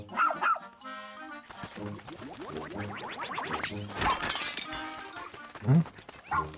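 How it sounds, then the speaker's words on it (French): A dog in a Pikmin video game trailer gives a few short, sharp barks, mixed in among bursts of game sound effects and a brief crash of breaking. "Oh, un chien."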